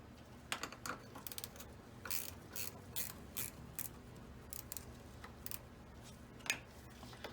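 A ratchet loosens the battery terminal on a Toyota Corolla or Matrix, producing quiet, close bursts of clicking pawl strokes in an irregular rhythm over a low background hum.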